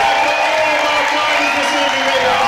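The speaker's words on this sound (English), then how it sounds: "great ovation from the crowd" Crowd at a climbing grand final giving a sustained ovation of applause and cheering, dense and steady, with a commentator talking over it.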